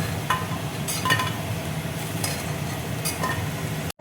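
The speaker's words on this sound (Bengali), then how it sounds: "তেলেই দেখো কুমড়োটা আমি ভেজে নেব" Pumpkin pieces frying in hot oil in a home kitchen: a steady low sizzle runs throughout, broken by several sharp metal clinks of a utensil against the pan, with no voices.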